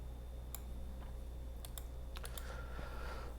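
Soft, quiet keyboard typing in short scattered bursts of key clicks over a low steady hum, with no one speaking.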